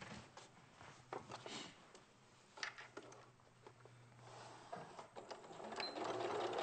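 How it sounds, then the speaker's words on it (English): A sewing machine runs steadily, stitching across marked lines on fabric, its rapid needle chatter continuing quietly throughout with slight speed changes and a fuller whir near the end. "So I'm sewing across the lines that I marked on."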